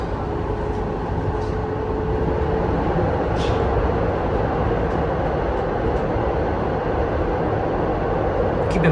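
A Toronto TTC Line 5 Eglinton LRT train runs steadily under manual control near East York, with a loud continuous rumble and wheel roar and faint high squeals, no talking.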